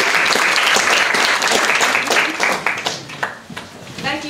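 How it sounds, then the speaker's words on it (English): Audience applause at a lecture on gender, sexuality and the state, dense loud clapping from a crowd that thins and fades toward the end. "Can we give them a round of applause?"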